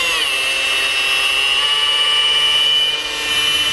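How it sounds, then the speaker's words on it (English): A rotary polisher buffs clear coat on a freshly painted panel, a loud close whirring whine that holds steady with a slight dip in pitch near the end. "Now, see how my rotary polisher is spinning this way?"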